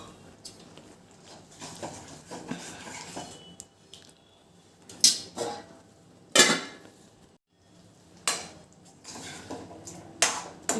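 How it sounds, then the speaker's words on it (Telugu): A metal lid is set back onto a pot of sweet mango chutney cooking with jaggery, with several sharp clanks and clatters spaced among quieter handling rustles nearby. "మళ్ళీ మూత పెడదాం."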